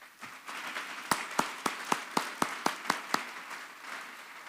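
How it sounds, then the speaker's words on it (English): A small audience at an awards ceremony claps in a brief, evenly spaced run of about ten distinct claps over a soft background hum, with quieter patter before and after. "let's give them a round of applause"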